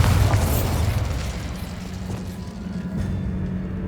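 A Bombarda spell explosion in the video game Hogwarts Legacy bursts loudly at the start with a deep boom, then trails into a rumbling, noisy decay with a steady low hum underneath.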